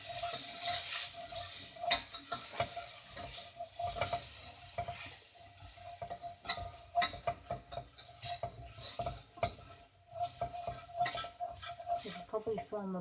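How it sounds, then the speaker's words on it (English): A whisk scrapes and clinks against a pan while flour is worked into a roux paste for an allergy-free lasagne, giving an irregular stirring rhythm with light metallic taps under faint kitchen sizzle. "we're going to whisk that around to make a roux till it comes into like a paste"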